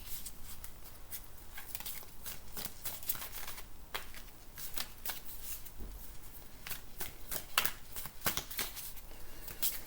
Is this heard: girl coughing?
no